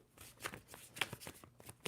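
Quick papery riffles of a tarot deck being shuffled, several short bursts spaced through the clip, close and fairly quiet with no talking.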